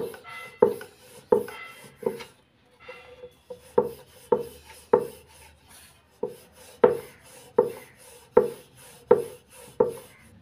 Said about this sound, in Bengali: এইভাবে পরোটাগুলো বেলে নেব।